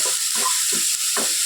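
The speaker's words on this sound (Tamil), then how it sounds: "நல்லா வதக்கிக்கலாம்." Carrot and capsicum sautéing in a pan, a soft steady sizzle with a few stirring scrapes coming in short bursts, close and moderately loud, no talking.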